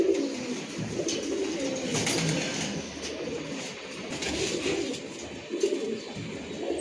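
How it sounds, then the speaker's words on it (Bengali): Pigeons of a racing line coo steadily and close by in a loft, soft low throaty calls repeating and overlapping without pause, with no talking. "মাশাআল্লাহ, সুন্দর কবুতর"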